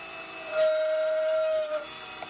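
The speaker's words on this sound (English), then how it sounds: "we turn on this little high-speed drill." A small high-speed drill, used in modding a Samsung 960 EVO 1TB SSD with a cooling fan, whines at a steady high pitch for about a second, with faint mechanical rattle around it.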